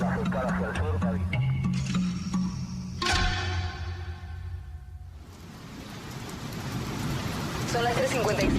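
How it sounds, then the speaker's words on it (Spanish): Heavy torrential rain pours steadily at night over Buenos Aires during an electrical storm, a dense continuous roar with a brief low rumble partway through. "Son las 3:55 de la madrugada y llueve torrencialmente en Capital y Gran Buenos Aires."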